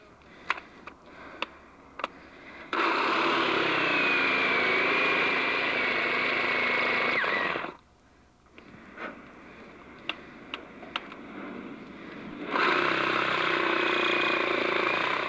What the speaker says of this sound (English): drilling bolt holes into the concrete